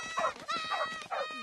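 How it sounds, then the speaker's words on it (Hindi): A dog whimpers and whines in a series of three high, wavering cries separated by short gaps, close and fairly loud, with faint background noise and no clear talk. "आज वो डॉगी नहीं काटेगा"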